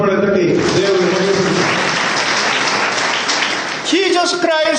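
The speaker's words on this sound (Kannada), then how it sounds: "ಚಪ್ಪಾಳೆ ತಟ್ಟಿ ದೇವರಿಗೆ" A congregation at a Christian mission gathering in India breaks into loud, sustained applause for several seconds, fading as a voice begins speaking near the end.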